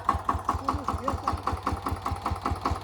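A mid-sized tractor engine idles with a steady, rapid knocking pulse, close and continuous throughout without any break.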